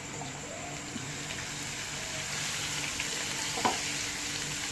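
Crushed garlic fries in hot ghee for a dal tempering, giving a steady, soft sizzle throughout with a faint clink near the end and no talking.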